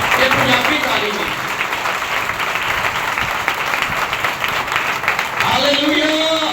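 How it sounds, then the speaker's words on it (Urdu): Hand clapping from a congregation at a Pentecost church gathering, a dense sustained round of applause with a voice speaking over it at the start and end. "تالی مارنی تو کھول کے مارو، یہ ٹھیک نہیں سی، یہ ٹھنڈی سی، یہ پنجابی تالی نہیں۔"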